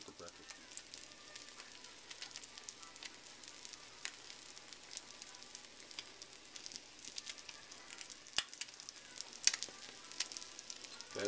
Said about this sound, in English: That's that sound of sizzle